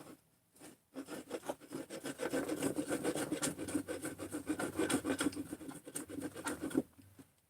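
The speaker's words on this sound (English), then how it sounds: "This is the super scraper." A scraper rasps across a 372 crankcase in repeated quick gritty strokes, a steady scratchy rubbing at low volume that runs for several seconds before stopping.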